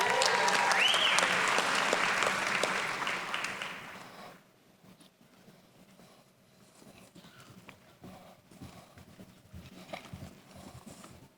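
Audience applause at a medical college graduation hooding ceremony, a loud crowd ovation for four seconds that cuts off abruptly, leaving a quiet hall with faint rustling and scattered sounds.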